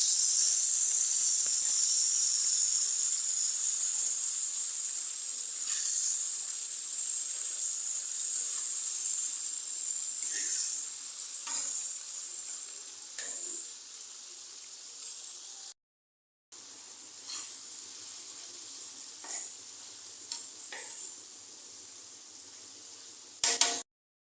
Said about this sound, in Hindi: कलेजी को हम अच्छी तरह फ्राई कर लेंगे।